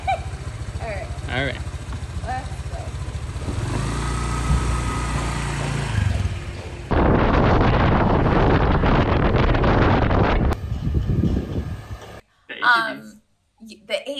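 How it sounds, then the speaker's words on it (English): A motorbike ride in the mountains carries heavy wind buffeting and engine drone that swells and shifts through the middle, with a voice speaking briefly at the start and near the end. "I rode a motorbike."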